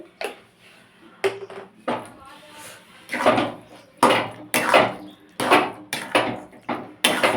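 A metal spoon scrapes and knocks rhythmically in a pan while garam masala is stirred into cooked spinach, giving a close, repeated series of clattering strokes with no talking.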